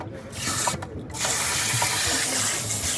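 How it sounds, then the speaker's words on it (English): Water from a shower head on a massage jet setting sprays steadily in a bathroom under renovation in Japan, a broad continuous hiss that briefly dips then returns louder and holds. "Oh, that's like a massage jet, huh?"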